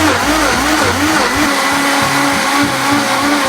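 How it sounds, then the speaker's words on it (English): A Vitamix blender set to speed 7 whirs loudly as it purees chopped celery, a steady high motor roar with a cyclic churning wobble as the contents circulate, with no one speaking. "Now you're going to set your Vitamix to 7, turn it on, and let that go for about a minute."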